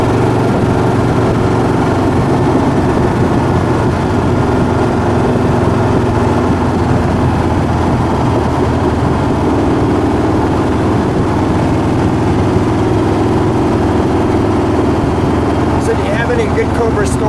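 A 1966 Shelby Cobra 427 engine idles with a steady, loud, rumbling drone that holds unbroken for the whole stretch, close up and alone without talk.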